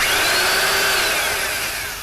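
A power drill bores a small quarter-inch hole into a car's exhaust pipe, a loud steady high-pitched whine close by that drops slightly in pitch as it cuts, with no talking.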